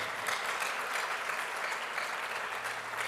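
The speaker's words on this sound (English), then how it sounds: "A louder round of applause to Eja Kuonimo" Steady applause from an audience at a public university lecture honoring a performer, dense and continuous throughout with no breaks and no voices over it.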